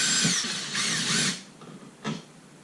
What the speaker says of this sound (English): start screwing it in until it starts catching